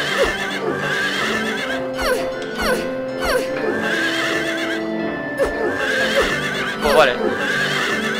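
Horses in the video game Silent Hill 3, repeated shrill neighs and whinnies with clip-clopping hooves, sounding over someone speaking Spanish.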